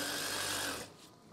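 A sewing machine stitches an eyelet onto curtain fabric, running loud and steady at close range, then slowing and quieting as it stops near the end.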